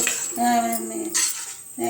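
A steel lid set onto a steel kadai gives a couple of close, sharp metallic clinks and rattles in a quiet kitchen.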